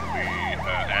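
Police car sirens wail in a roleplay video game, a loud continuous rising-and-falling electronic yelp cycling rapidly several times, close and alone.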